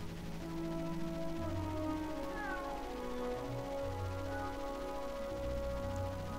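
A cat meows several times in the Drakensang video game, set on a farmyard with chickens, its drawn-out cries spaced across a soft ambient music bed.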